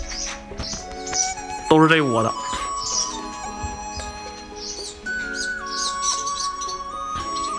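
Swallow chicks in a nest giving high thin chirps and tweets in short bursts, heard close under a person's steady talking.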